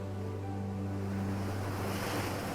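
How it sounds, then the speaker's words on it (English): Steady, loud rush of North Atlantic waves breaking against Newfoundland's rocky shores, a continuous surf roar with wind noise and a low rumbling hum underneath, no voices. "watching the relentless waves of the North Atlantic crash against Newfoundland's rocky shores"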